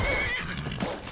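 A horse in the video game Skyrim gives a short, loud whinny close by, a wavering high call lasting about a second, with faint hoof sounds and no talk over it.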